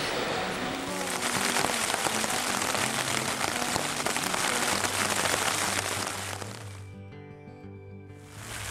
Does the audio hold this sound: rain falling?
yes